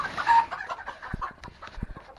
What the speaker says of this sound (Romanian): Găini învățate libere, cu adevărat